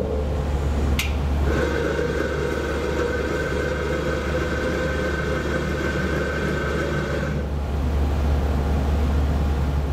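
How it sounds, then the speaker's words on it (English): A Wilson Tool XSharp grinder runs a cycle grinding a whisper shear on a punch, giving a steady close motor whine for about six seconds over a constant low machine hum. "I'll set my depth and just hit the start button and run through the cycle."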